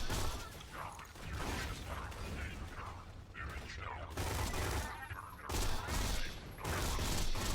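Rapid gunfire from the Borderlands 2 video game, dense bursts of shots with mechanical clatter in continuous volleys and brief gaps.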